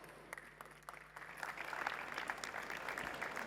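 At a healthcare conference, scattered claps begin and quickly swell into broad audience applause, a dense wash of many hands that keeps building toward the end.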